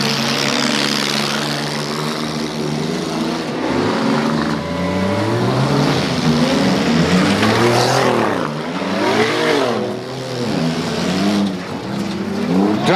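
Demolition derby cars race around a dirt track toward a hairpin, their engines roaring loud and close, revving up and down in overlapping surges with no voices over them.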